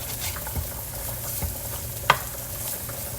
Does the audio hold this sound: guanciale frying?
yes